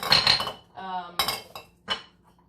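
A glass jar of homemade herbal tea sweetener clinks while being handled: several sharp glassy knocks and one ringing tone, spaced out with short pauses, close and fairly loud.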